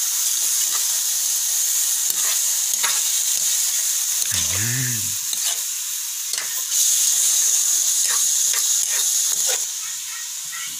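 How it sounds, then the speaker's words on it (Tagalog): Squid stir-frying with garlic and onion for a seafood dish, a loud continuous sizzle and hiss with scattered scraping stirs, up close. "paghaluin natin ang seafood o ang pusit sa bawang at sibuyas."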